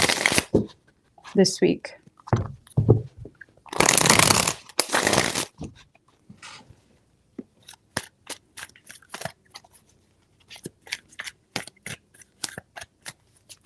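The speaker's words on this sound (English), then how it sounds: "Three shuffles." Tarot cards being shuffled in repeated bursts of riffling and flicking, loud and close, with short pauses between bursts and a voice talking at the start.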